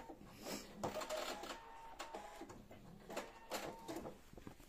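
A sewing machine stitches a zip onto a pair of trousers, its needle chattering in a steady mechanical whir with brief pulses, close and fairly quiet, with no one talking.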